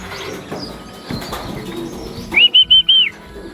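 Racing pigeons flap their wings as they come into the loft, with soft fluttering over the first seconds, then a run of four bright, loud chirps close by.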